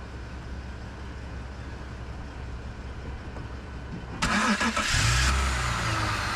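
A BMW car that had sat unused for two years cranking and firing up, the engine catching abruptly and settling into a loud, steady rumbling idle close by.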